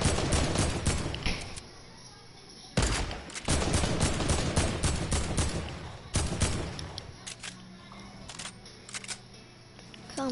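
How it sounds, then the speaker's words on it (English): Rapid video-game gunfire rattles in repeated dense bursts, sharp cracking shots coming close and loud with brief pauses, while a player talks faintly underneath. "I'm shooting this kid out"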